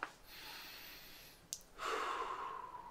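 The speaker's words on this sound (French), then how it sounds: "Une respiration." A close, slow, deep breath in an ASMR roleplay: a soft airy inhale, a short pause, then a longer, louder, breathy exhale.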